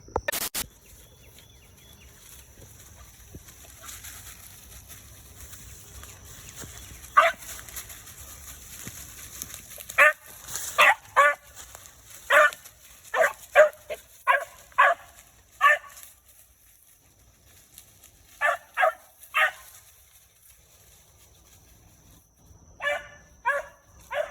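A young Bramlett/Reffett dog barks repeatedly at a rabbit in short clustered bursts, some single yaps and quick doubles, fairly close against a quiet outdoor background.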